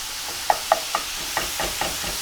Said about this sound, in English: Just chop it up with our wooden spoon